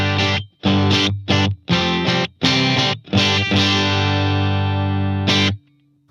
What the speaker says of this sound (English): Let's turn off all the effects. Let's just work on it one by one. Alright, so here's our bass guitar sound.